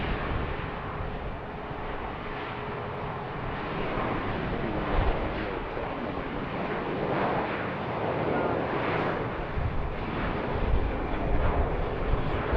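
A jet departing an airport runway, one of a steady stream of takeoffs, gives a continuous broad engine roar at moderate distance that holds steady throughout, with no one talking.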